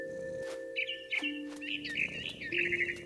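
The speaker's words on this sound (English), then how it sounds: "All I cared about was eating that mama bird." In the What Remains of Edith Finch video game, a mama bird chirps in quick bright trills that repeat over a steady ambient hum, clear and fairly close.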